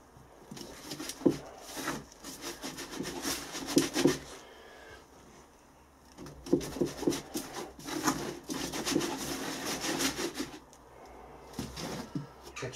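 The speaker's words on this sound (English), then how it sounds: "the first layer of sand is put through a riddle" Foundry sand for a bronze casting mould pushed and rubbed through a riddle sieve, giving two long spells of dense gritty rasping and scraping with brief pauses between, fairly close and without speech.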